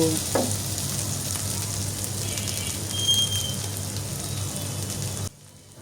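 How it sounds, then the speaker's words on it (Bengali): Beef brain bhuna being stirred and fried in a pan, a steady hissing sizzle with a brief clink near the start, continuing evenly until it cuts off abruptly near the end. "এখন একটু নাড়াচাড়া করে ভালোভাবে ভেজে নামিয়ে নিব"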